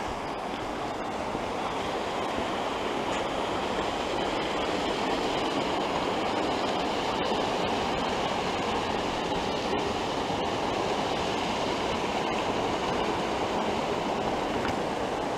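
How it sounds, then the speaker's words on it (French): Mountain torrent rushing beneath a small footbridge on a hiking trail, a steady, loud, unbroken roar of water filling the whole clip with no talking. "Et on passe ici sur une petite passerelle, au-dessus d'un torrent."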